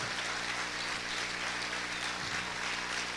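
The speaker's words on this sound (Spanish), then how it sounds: "Aplaude fuerte al Señor en esta hora." A church congregation applauds during a sermon, producing a continuous, even wash of clapping at a fairly low level with no break or talk.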